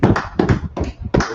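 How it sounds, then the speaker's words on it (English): A few sharp hand claps ring out close by in an irregular run of about five or six hits, loud and dry with no talk over them. "Clap it up."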